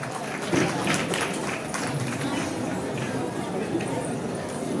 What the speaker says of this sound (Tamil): பலத்த கைத்தட்டல் கொடுக்கலாம் ஐயா அவர்களுக்கு